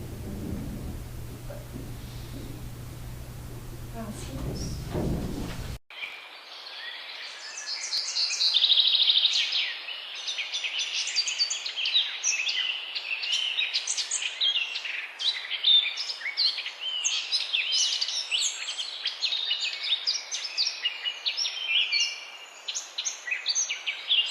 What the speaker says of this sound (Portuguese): alguns sons de pássaros e de animais que por ela passam ou vivem